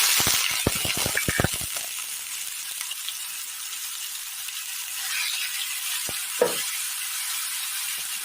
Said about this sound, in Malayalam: പൊട്ടിയ കടുകിലേക്ക് ചതച്ച് വെച്ചിരിക്കുന്നതും കാന്താരിയും ചേർത്ത് കൊടുക്കാം